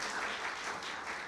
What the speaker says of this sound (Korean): 다시 한번 큰 박수로 격려하겠습니다.